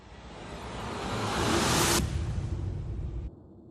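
A Native Instruments Rise and Hit riser transition, a noisy rushing whoosh that swells steadily louder for about two seconds, then hangs with a low rumble before cutting off abruptly.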